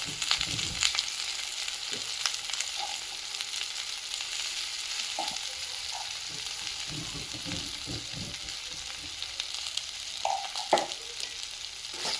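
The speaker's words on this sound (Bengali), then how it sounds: "কলা আর পটল তো অল্প অল্প একসাথে একেবারে ভেজে দেবো" Plantain and pointed gourd frying together in hot oil for a dry khichuri meal, a steady broadband sizzle running throughout with occasional soft clinks and stirring bumps, close and moderately loud, no voices.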